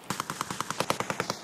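Rapid automatic gunfire in the video game Escape from Tarkov, a quick burst of about a dozen evenly spaced sharp shots in just over a second, loud and close with no talking over it.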